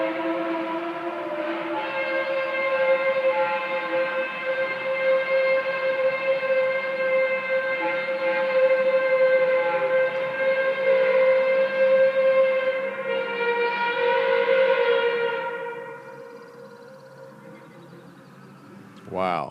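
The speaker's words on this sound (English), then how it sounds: "you're hearing really the sound of trumpets" Mysterious trumpet-like sounds heard from the sky, recorded outdoors: a loud, sustained, brassy droning blare with layered tones that swells and wavers for about fifteen seconds before fading.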